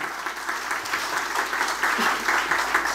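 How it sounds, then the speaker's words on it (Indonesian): A church congregation at an anniversary service in Surabaya applauds, dense, loud clapping from many hands that keeps up steadily from start to finish. "Beri tepuk tangan yang meriah."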